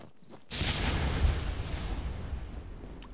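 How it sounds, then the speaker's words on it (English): A huge explosion goes off during a military training exercise: a sudden loud blast about half a second in, followed by a long, heavy rumbling roar that stays strong and then slowly fades, with no voices. "That was a huge explosion."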